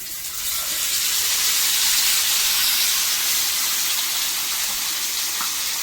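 Pacu fish fries in hot oil in a pan with masala, making a dense, even sizzle up close. The loud crackling hiss holds steady throughout with no voices.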